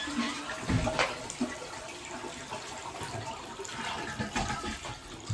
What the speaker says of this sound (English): I'm also going to flush the toilet one more time.